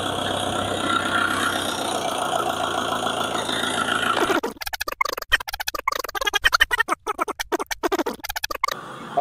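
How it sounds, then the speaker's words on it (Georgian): A tractor engine idles with a steady, close rumble as the tractor is unloaded from a tow truck, then the sound breaks into choppy, irregular bursts for the second half. "უნდა დაგვეხმაროს, რომ ჩამოვიყვანოთ ტრაქტორი ევაკუატორიდან"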